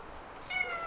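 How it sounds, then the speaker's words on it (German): A kitten, one of many house cats, gives a short, thin meow close by against faint background hiss. "Und das ist eine von den Kätzchen."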